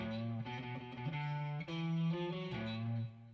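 Electric guitar playing a riff transposed up a whole tone, a clear distorted sustained riff with repeated chord stabs, loud and alone with no talk.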